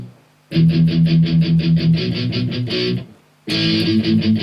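Palm-muted electric guitar chugs through a song in tight, rapid repeated strokes, loud and up close, breaking off briefly near three seconds before the muted riff resumes.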